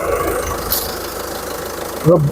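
A 2014 Ford EcoSport Titanium diesel engine idles with a steady, quiet low rumble throughout, ending with a short louder bump near the end.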